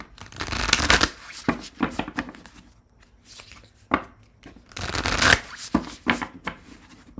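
Tarot cards being shuffled close up, two long riffling bursts with several shorter flicks and taps of the deck between them, and no talking over the shuffle.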